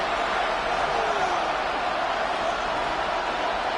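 A stadium crowd in the football video game Madden 26 roars steadily ahead of a third-and-long play, a dense, even wall of cheering noise with no break.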